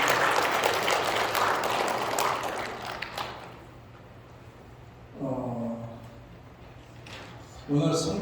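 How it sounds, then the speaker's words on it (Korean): A family and congregation clap together at a Christmas church service, a dense burst of applause for about three seconds that fades, followed by brief talking. "가족이 함께 박수를 좀 하시고"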